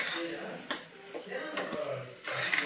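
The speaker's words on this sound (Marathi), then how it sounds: "हे मी सतत हलवत किंवा ढवळत हे पुरण शिजवून घेत आहे" A spoon scrapes and knocks against a heavy-bottomed pot as thick sweet lentil puran filling is stirred, with soft clinks and a voice talking faintly underneath.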